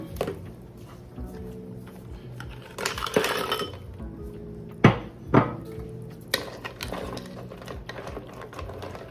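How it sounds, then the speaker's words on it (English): Crab claws drop into a pot of cooking gumbo roux with several clattering, clinking knocks of shell against metal, two sharp louder hits midway, over a low kitchen hum. "now we're just gonna add our crab claws in there"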